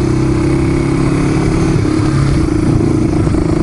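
Motorcycle engine stuck at a high idle around 5,000 rpm with the clutch pulled in, a loud, close, steady buzzing drone that holds without revving.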